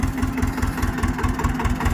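An Eicher two-cylinder tractor engine runs at idle close by, a loud, steady, rhythmic chugging throb that continues without pause and with no voices over it.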